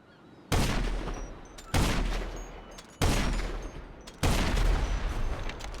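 Heavy Sniper Mk II explosive rounds in GTA Online fire at a Hydra jet: four loud, booming shots spaced roughly a second apart, each trailing off into a rumbling decay.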